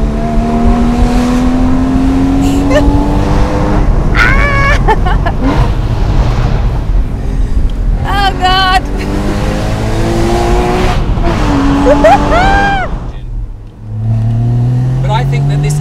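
A powerful Porsche Boxster Spyder's 3.8-litre engine revs and accelerates hard, pitch climbing through gears with brief tire squeals, loud and close, with voices talking over it.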